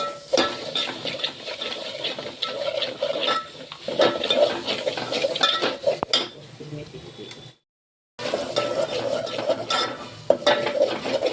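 Masala with coriander powder and salt cooks in a pan, scraped and stirred in repeated bursts over a soft sizzle, with a brief silent gap before the stirring resumes.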